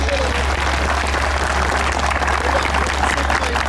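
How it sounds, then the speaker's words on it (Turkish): A group of firefighter trainees at a training centre gives dense, steady applause, many hands clapping together over a low background hum for several seconds. "Evet bir alkış."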